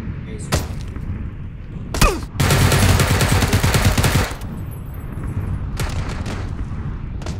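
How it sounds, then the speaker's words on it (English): PUBG gunfire cracks out as a couple of single shots and then a long loud automatic burst up close, followed by quieter scattered shots, with players' voices faintly in the mix. "You shot me in the back before you shot him."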